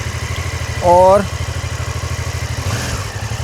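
A BMW F450 GS motorcycle engine idles in first gear with a steady low rhythmic thrum throughout, while a person briefly speaks over it.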